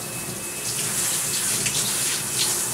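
Steady running water from a tap rinsing a yellow Labrador's allergy-affected paws, a constant close hiss and splash with no pauses and no talking.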